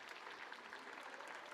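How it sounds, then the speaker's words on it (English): A conference audience at a scientific session on HIV care applauds, producing a dense, even patter of many hands that stays faint and distant for its whole length. "we give you a round of applause"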